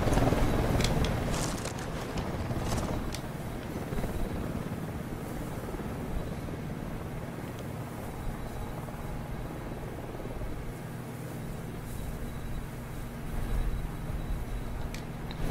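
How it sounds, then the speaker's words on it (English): Unidad helicopter approaching in a video game, a steady, loud rotor drone with heavy low rumble that holds throughout with no talking. "Oh crap, that sounds like a chopper coming in"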